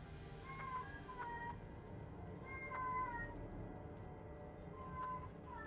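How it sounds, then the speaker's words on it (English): A female cat in heat meows repeatedly in drawn-out, wavering cries, several calls spread across a steady background hiss of a gaming session. "Whose cat's there? My new kitty's in heat."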